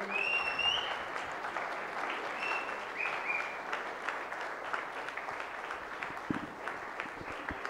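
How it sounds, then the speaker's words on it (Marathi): Sustained audience applause at the Super-X 6.0 prize event by Core2web, a dense, even roar of many hands clapping throughout, with a faint voice briefly over it near the start. "टाळ्या वाजत राहिल्या पाहिजेत"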